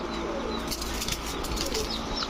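Rajshahi Giribaz pigeons beat their wings inside a cage, a continuous close flutter of flapping with faint cooing mixed in.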